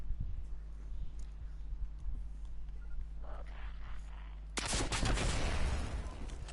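Destiny 2 gameplay with a Hunter opens on a low, quiet hum, then a sudden loud burst of rocket explosions and rapid gunfire takes over for the last two seconds.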